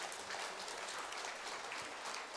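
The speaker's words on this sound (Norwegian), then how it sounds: "gi den en applaus" Audience at a church singing meeting gives a round of applause, steady, even clapping that is faint and distant.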